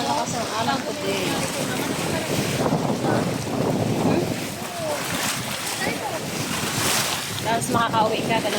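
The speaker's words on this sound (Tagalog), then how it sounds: "Lakas na ng alon." Wind and sea waves roll onto the shore in a constant loud wash, with heavy gusts buffeting the microphone. Voices talk faintly underneath at moments.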